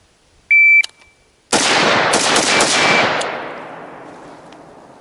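A start beep from a shot timer is followed by a single very loud rifle shot on a 300-yard shooting drill, with a long echo fading across an open range.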